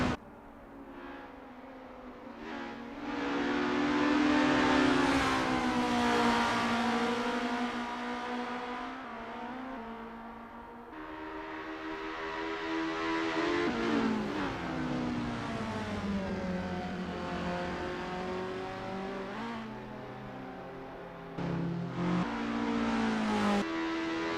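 Race cars warming up at a circuit in Assetto Corsa, engines revving and rising and falling in pitch as they accelerate and pass, with tire squeal, sustained and fairly close throughout.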